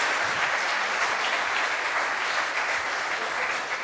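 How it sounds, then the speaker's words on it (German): Steady applause from many people clapping at once, dense and even with no gaps, in the context of a Schalke 04 football discussion. "wird geklatscht"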